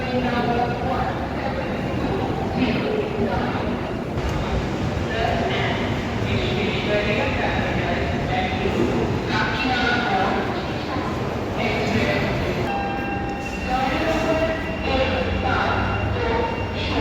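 A Duronto train bound for Bhubaneswar pulls out, a steady rumbling roll of wheels and carriages that continues throughout, heard under people talking nearby.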